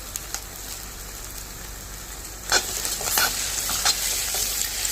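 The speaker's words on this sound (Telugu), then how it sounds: "vinegar 1 spoon, soya sauce 1 spoon add చేసుకొని కొద్దిసేపు బాగా ఫ్రై చేద్దాం" Egg fried rice sizzling in a pan after a spoon each of vinegar and soy sauce go in, a steady hiss that grows louder and busier midway as stirring scrapes and clinks join in.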